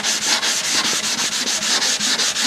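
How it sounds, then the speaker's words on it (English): Light scuff-sanding of a guitar finish with 320 grit paper on a pad, a steady close-up rhythmic rubbing with even back-and-forth strokes, loud and alone. "I'm going to go ahead and just use some 320 grit paper on a pad here and just lightly scuff it."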